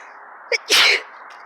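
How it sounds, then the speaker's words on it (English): A single sneeze, close and loud, preceded by a quick sharp intake of breath, then quiet outdoor background in a Pittsburgh garden under a clear autumn sky. "I'm gonna sneeze."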